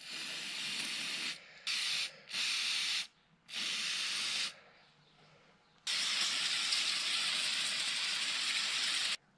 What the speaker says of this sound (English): Some contact cleaner.